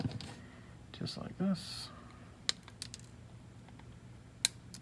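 Flush cutters snip resistor pins on an electronics merit badge kit, giving a couple of short, sharp clicks spread apart, with a voice speaking briefly nearby.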